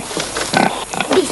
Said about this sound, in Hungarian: Húzzátok el a malacot, hogy megpróbáljam.